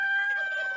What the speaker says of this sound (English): Oh, and you just heard a rooster crow.